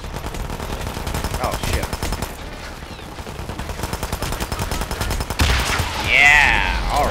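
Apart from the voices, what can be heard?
enemy gunfire in the video game Hitman: Absolution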